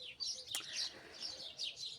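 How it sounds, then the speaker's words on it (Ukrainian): Sparrows chirp repeatedly in quick, bright tweets, fairly faint and a little distant, with a brief sharp click partway through. "Бачите, пташки у нас тільки горобці співають."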